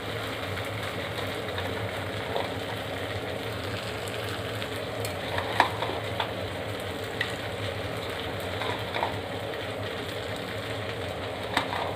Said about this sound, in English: Let's add the soya chunks now.